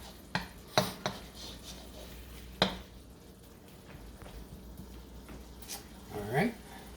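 Shrimp stir-fried in curry sauce in a pan, with a few sharp clinks of a utensil against the pan, then soft stirring and a gentle sizzle; a voice speaks briefly near the end.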